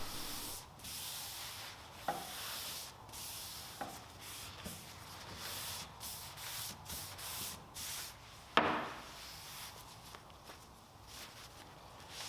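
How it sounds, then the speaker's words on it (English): Quiet, soft rubbing of a cloth wiping excess finishing oil off wooden drawer fronts, a faint continuous scuffing with a few brief louder knocks and handling sounds in between. "now I'm coming back and simply just wiping off the excess oil off the front of these"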